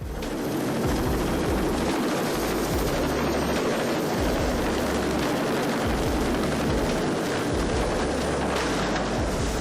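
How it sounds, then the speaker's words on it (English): A helicopter comes in to land and flips over into the sea, heard as a loud, continuous rotor roar and engine noise with rough, churning bursts, sustained close and dense throughout. "Upon landing, the helicopter flipped over and crashed into the sea, partially submerged and floating in the sea"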